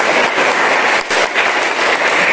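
A church congregation at an Easter morning service claps together in a dense, steady wash of applause that carries loud and unbroken from start to finish, with only a brief dip midway.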